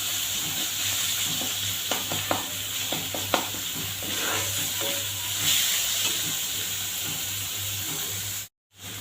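Veg paneer bhurji sizzles in a pan while it is mashed. A steady frying hiss runs under a low hum, with scattered soft taps and scrapes from the spoon, then a brief cutoff near the end.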